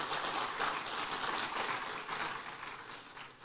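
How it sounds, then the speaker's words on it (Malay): Faint, distant applause from a crowd of CEOs and guests at the Malaysian launch of the 5G Rahmah phone package: a soft, continuous wash of clapping that slowly thins toward the end. "Kita berikan tepukan."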